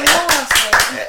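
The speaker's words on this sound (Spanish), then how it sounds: "Yo también aplaudo" A few sharp hand claps land in quick, uneven succession while a voice talks over them, in a lively Spanish-language conversation show.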